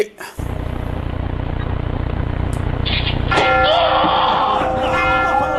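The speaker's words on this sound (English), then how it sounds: "I love hearing the bells toll." Bells toll as a resonant ringing that rises partway through over a low rumble of background noise, with brief voice sounds mixed in.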